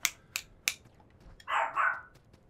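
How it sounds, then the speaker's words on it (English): A dog in the video game Salt and Sacrifice gives a growling, snarling bark that lasts about a second. Three sharp clicks or hits come before it, and no one talks over it. "Did you hear another dog or something"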